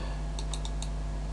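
A few quick computer mouse clicks, about four sharp ticks in under a second, sounding close against a steady electrical hum while trading charts are worked on a computer.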